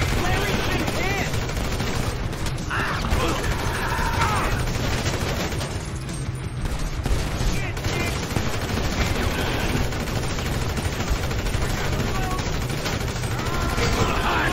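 Gunfire in GTA V during a redneck rampage mission, a loud, dense, continuous barrage of shots and blasts that fills the whole stretch with no pause.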